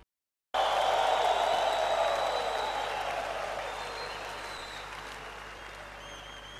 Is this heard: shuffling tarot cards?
no